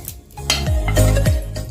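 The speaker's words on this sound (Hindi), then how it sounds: "सिर्फ हम इसको वैसे ही रोस्ट कर रहे हैं, ऑयल नहीं, घी नहीं, कुछ भी नहीं।" Salted vermicelli (seviyan) dry roasted in a pan with no oil or ghee, giving a close, soft scraping and rustling stirred in several short strokes with a faint dry crackle.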